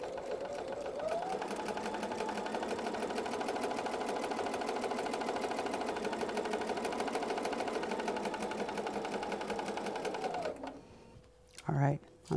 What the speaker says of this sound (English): My needle is down, and I'm just going to simply sew.